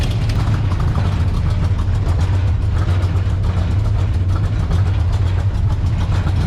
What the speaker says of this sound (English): We got an exhaust leak over here.